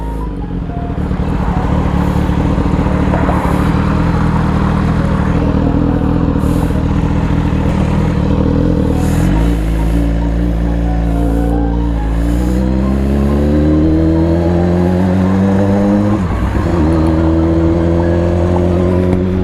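A BMW S1000RR sport motorcycle revs hard on an open road, its engine loud, close and continuous, with pitch climbing and dropping through quick quickshifter gear changes and no voices over it.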